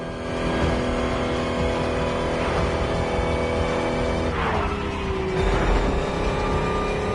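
Lotus electric car in a video game driving quietly, a steady low motor hum and road noise with a brief rising whine midway, continuous and fairly close.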